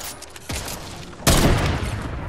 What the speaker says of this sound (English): Sniped him.